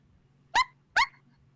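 A voice imitates a soft dog bark, two short muffled woofs about half a second apart, close and alone over a faint low hum, during a tabletop role-playing game session.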